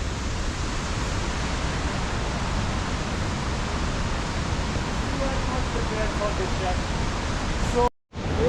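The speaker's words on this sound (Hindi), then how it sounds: "तो गाइस वाटरफॉल आ चुका है। ओए गाइस ये रहा वाटरफॉल" Waterfall on the Kheerganga trek, a constant broadband roar of rushing water heard close and loud, briefly cut off near the end.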